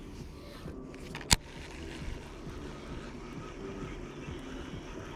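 A crab boat runs through a Louisiana marsh at full throttle, about 40 mph, giving a steady low engine roar mixed with wind, with one sharp click partway through.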